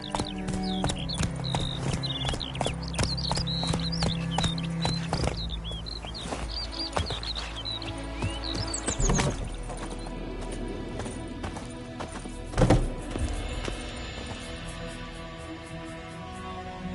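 Roach the horse galloping in The Witcher 3: Wild Hunt, rhythmic hoofbeats drumming steadily over terrain with bird chirps and ambient game sound around them, and a heavier thud near the end.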